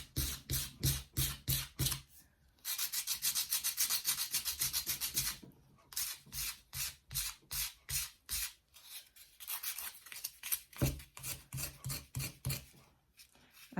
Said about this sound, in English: sanding it this vigorously